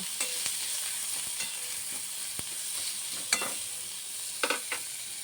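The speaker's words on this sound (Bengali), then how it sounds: "ভালো করে পেঁয়াজটা ভাজা হয়ে যাবে।" Steady sizzle of onions frying in a pan for a duck egg and potato curry, close up, with a few sharp clicks of a spoon stirring and scraping.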